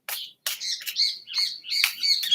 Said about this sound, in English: Don't mind the birds outside.